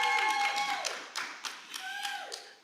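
A small audience at a school orientation gives a brief, thin round of scattered handclaps, a few distinct claps over a faint tonal background.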